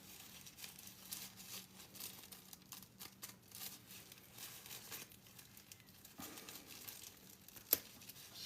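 Paper being cut and handled for snowflakes with scissors, a run of soft, quiet crinkling and snipping rustles throughout, with one sharper snap near the end and no talk.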